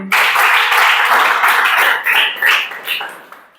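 A classroom of students claps together in a burst of applause that sustains for about three seconds, then tapers off with a few last scattered claps, loud and close.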